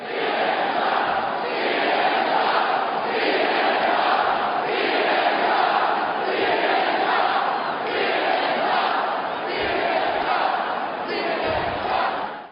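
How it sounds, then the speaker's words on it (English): A big Trump rally crowd chanting in unison, a loud, continuous wall of voices with a steady rhythmic pulse of repeated chant phrases throughout. "crowds at the Trump rally, like we saw last night, hey, Don, hey, Jeff Zucker, they were chanting at you."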